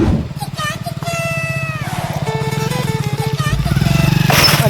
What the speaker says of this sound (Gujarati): આ ગુજા બાઈક સાઈડમાં લઈ લે